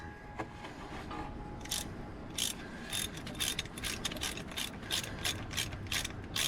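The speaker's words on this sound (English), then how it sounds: "So I'm gonna get this bolted all the way back up" Ratchet wrench driving a steel bolt into aluminum threads on an '03 Hemi Ram engine, a steady run of close, loud clicking strokes in bursts, with no talking.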